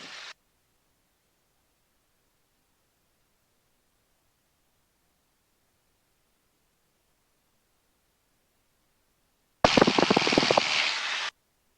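A light aircraft engine is pushed to full power for takeoff: after a long near-silence, a loud, broadband roar starts abruptly close to the end and holds steady.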